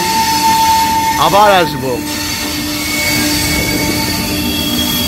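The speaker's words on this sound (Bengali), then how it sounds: "আমাদের প্ল্যাটফর্ম নম্বর 13 থেকে এক মিনিট লেটে ছাড়লো ট্রেন" The Sealdah Rajdhani pulls away from platform 13 at New Delhi with a loud, continuous rumble and a sharp wheel squeal early on, while someone speaks briefly.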